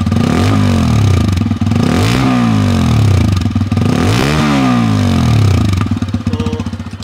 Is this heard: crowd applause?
no